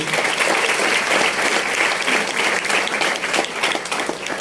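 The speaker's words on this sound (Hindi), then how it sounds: "जोरदार तालियां मैडम के लिए" A seminar audience gives a loud, sustained round of applause for a woman at a business talk in Borivali, dense clapping filling the whole stretch at steady strength.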